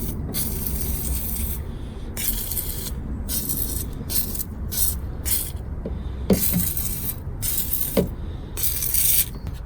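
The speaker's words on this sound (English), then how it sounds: "I'm gonna get some WD-40 on it" Bursts of aerosol spray on rusted battery brackets during gearbox work on a Toyota Auris, a series of close, loud hissing blasts with short gaps between them, with a couple of faint knocks.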